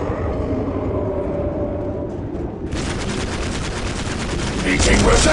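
Battle gunfire from the Warhammer 40,000: Dawn of War Dark Crusade video game, Chaos forces attacking a Space Marine stronghold; dense rapid shots erupt loudly partway through and continue over a rumbling battle din.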